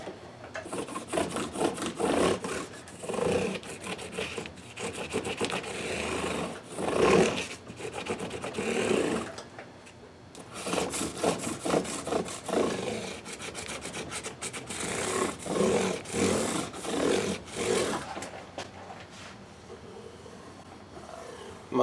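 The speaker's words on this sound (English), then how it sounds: "Next I have my 600 grit, and that just softens it a little bit further." Hand sanding with 600 grit paper gives rhythmic raspy back-and-forth scrubbing strokes, close and fairly loud, pausing briefly a couple of times before resuming.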